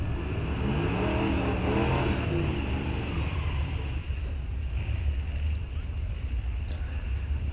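A 1941 Studebaker drag car revs at a drag race at Rock Falls Raceway. A loud engine roar climbs in pitch early on, then settles into a dense, steady rumble that lasts the whole stretch.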